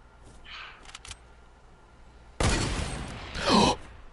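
In a Fortnite match, gunfire cracks at an opponent: a few faint sharp clicks, then a loud, abrupt burst of shots that sustains, with a second louder blast near the end and no voices.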